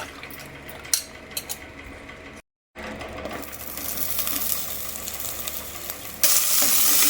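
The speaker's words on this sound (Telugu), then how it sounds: "పచ్చిమిరపకాయలు కడిగి నూనె వేసుకున్నాం మంచిగా వేయించాలి" Green chilies frying in hot oil for a moringa leaf chutney, giving a steady sizzling hiss with a few small clinks early on, a brief gap, then a louder, brighter frying crackle toward the end.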